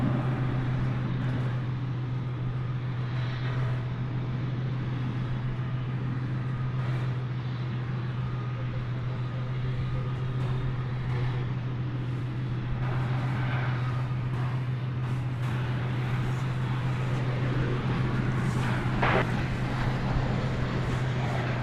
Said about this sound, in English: There should be an Ameriflight Beech 1900C twin-engine plane approaching us.